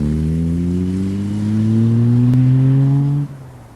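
A Jaguar E-Type sports car engine drones loud and close, its pitch rising steadily as it accelerates through a gear, then cutting off sharply near the end; no one speaks.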